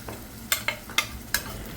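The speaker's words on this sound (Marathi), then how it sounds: "आपल्याला मसाला व्यवस्थित परतायचा आहे दोन ते तीन मिनटं छानसं तेल सुटेपर्यंत" Masala with garlic-ginger paste sizzles in oil under a gentle hiss while a spoon scrapes and clacks against the pan in several sharp strokes.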